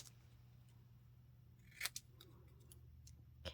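Scissors cutting out a paper craft piece for a fall ornament: a few close, crisp snips in quick succession over a low steady hum, then one more near the end.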